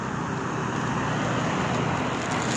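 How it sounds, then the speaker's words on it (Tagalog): Busy evening road traffic streams past in a continuous, loud roar of vehicles close by, with no one talking. "Maraming sasakyan."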